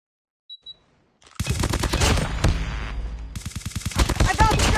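Call of Duty gunfire hits the player: after a moment of near silence and a faint beep, loud sustained automatic bursts erupt close by and run on without a break to the end.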